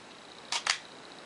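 Minolta XD film camera with its back open fires its shutter: two quick, sharp mechanical clicks in close succession, open then close, close and crisp against near silence.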